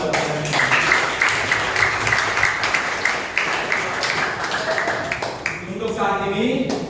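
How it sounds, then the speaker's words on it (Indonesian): Audience applause at a classroom guidance session in Indonesia, a dense steady patter of many hands clapping for about seven seconds, with voices mixed in underneath. "Tepuk tangan buat kalian."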